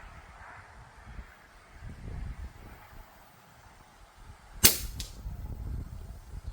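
Single crisp air rifle shot outdoors on a back road, a sharp crack that stands out against soft wind noise and quiet surroundings.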